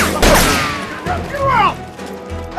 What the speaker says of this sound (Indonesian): Dia melesatkan tembakan dari balik pohon ke arah pasukan Terry.